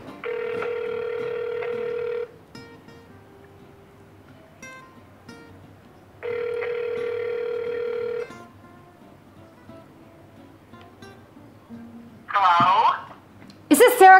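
Phone call from a blocked number: two long, steady electronic ringback tones with quiet clicks and faint rustling between them, followed near the end by a voice answering.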